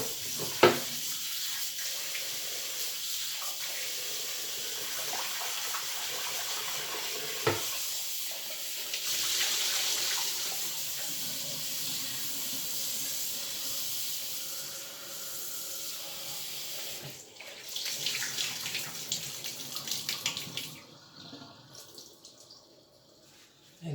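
Chicken party wings rinsed under cold running tap water, a steady close hissing stream of water with brief splashes and handling bumps, fading and ending near the close.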